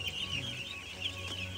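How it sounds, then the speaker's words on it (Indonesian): Twelve-day-old ducklings on a duck farm give a faint, continuous chorus of high peeping calls, steady throughout with no speech. "Ini bebek saya umur 12 hari ya."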